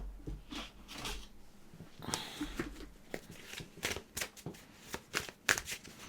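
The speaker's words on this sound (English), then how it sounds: "Let me just get another deck of cards out here." A deck of tarot cards being shuffled at close range, with repeated crisp riffling bursts and soft slaps spread across the whole stretch, no one speaking.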